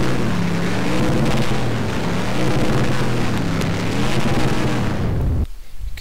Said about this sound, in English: Now he's revving it up right there